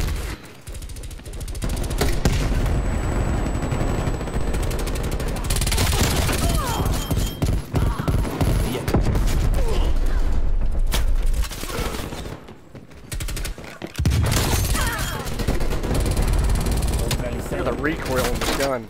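Rapid gunfire from assorted weapons in Call of Duty Black Ops Cold War, loud bursts of automatic fire and single shots crackling in dense clusters, with brief pauses between volleys and occasional booms.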